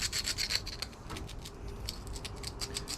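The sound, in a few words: emery cloth rubbing burrs off injector cups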